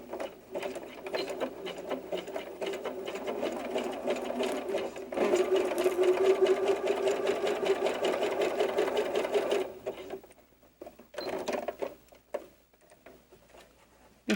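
A sewing machine stitches the elastic legs of a doll diaper with a steady, close mechanical chatter for about ten seconds, then stops and starts in a few short bursts.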